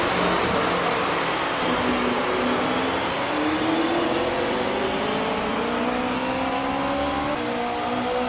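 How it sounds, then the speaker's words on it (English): Formula One race cars of 1957, Ferraris and Maseratis, roar off the grid at the start of the German Grand Prix. Many engines howl together in a loud, continuous wall of sound, their pitches climbing as they accelerate. "Die Motoren heulen auf, die Flagge ist oben."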